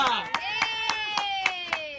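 Hands clapping for the winner of a bottle-flip game, eight evenly spaced claps close by, while a sustained voice carries across them.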